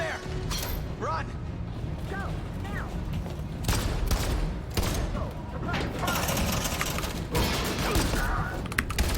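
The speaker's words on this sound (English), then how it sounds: "Oh no, Connor got shot." Gunfire in the video game Detroit: Become Human comes as loud, dense bursts of shots and crashing impacts over a constant heavy game soundscape, with voices briefly heard near the start.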